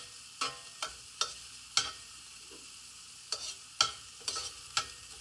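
Whole mustard seeds fry in ghee with chopped green chillies while a utensil stirs them, giving a series of sharp scraping and sizzling bursts at irregular intervals over a quiet, steady background hiss.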